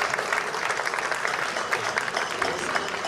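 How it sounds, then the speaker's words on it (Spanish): An audience at a historical combat reenactment of falcata and spear fighting with caetra and scutum shields applauds, a dense, continuous patter of clapping from a crowd throughout. "Un aplauso para ambos que lo han hecho realmente bien."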